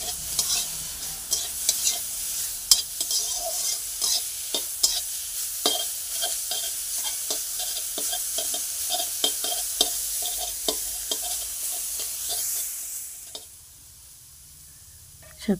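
Salted leafy greens (saag) frying and being stirred in a pan, with a steady sizzle and frequent scraping stir strokes for most of the stretch, which then drops suddenly to near quiet at the end.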